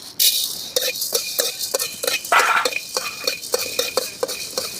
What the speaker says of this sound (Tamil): மிளகு நல்லா பொரியணும்